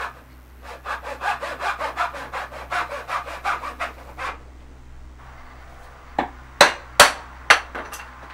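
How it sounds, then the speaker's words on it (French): A hand saw rasps through wood in a quick, regular rhythm of strokes while cutting a half-lap joint, then stops; a few sharp knocks follow. "On coupe avec la scie et on vient retirer le reste avec le ciseau à bois."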